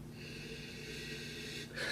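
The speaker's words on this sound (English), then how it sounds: "Let's give it a sniffy sniff." A quick, quiet nasal sniff at a glass of Grenache wine comes near the end, a brief breathy draw over faint background hum.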